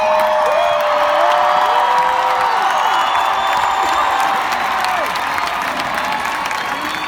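Large crowd cheering and applauding for a speaker: loud, sustained clapping with whoops and shouts that stay dense and continuous throughout.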